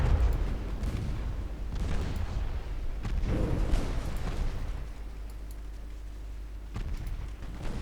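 Warships taking shell hits in the naval game Ultimate Admiral Dreadnoughts, a steady rumble of distant artillery booms and muffled explosions rolling on without break, with no talking.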